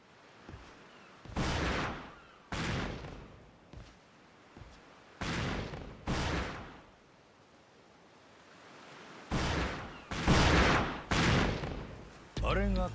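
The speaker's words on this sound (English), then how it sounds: "Are they just shooting cannons for funsies?" Cannons fire repeatedly in a video game battle, a series of loud booming blasts with broad rumbling tails, spaced irregularly across the scene with short quieter gaps between volleys.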